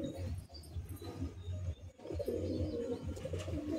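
Madrasi pigeons in a high-flying pigeon loft in Kolkata give low, throaty coos that repeat steadily through a few seconds, fairly close, with soft rustling beneath and no talking.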